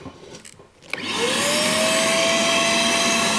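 After a brief shuffle, a homemade bee vacuum's motor kicks on and spins up into a loud, steady whirring roar that continues to the end.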